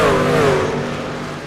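A racing truck in the NSRLA truck series at the Glen roars past on the track, its loud engine note dropping in pitch as it passes close by and fades.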